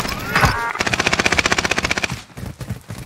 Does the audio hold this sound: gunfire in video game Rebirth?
yes